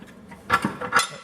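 A ratcheting wrench turns out a control arm bolt on a Jeep WJ, giving a few quick, close clicking ratchet strokes in a short burst.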